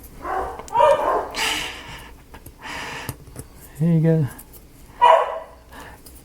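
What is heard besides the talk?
neighbor's dog barking outside through open windows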